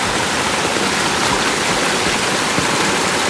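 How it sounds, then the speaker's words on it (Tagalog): Flood water rushes through a small stream on a farm, a loud, dense, continuous roar of churning water with no break and no voices. "Baha sa maliit na sapa, oh."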